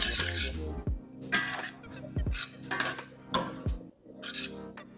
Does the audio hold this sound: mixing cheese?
yes